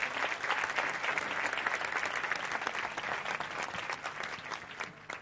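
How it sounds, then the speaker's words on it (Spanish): Steady applause from an event audience fills the stretch, a dense, even patter of many hands that fades slightly toward the end. "Un aplauso, sí, sí, no os cortéis, no os cortéis."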